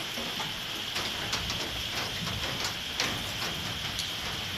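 Steady rainfall after a stormy night in a rural village, a continuous soft hiss with scattered distinct drips and taps on nearby surfaces, no voices.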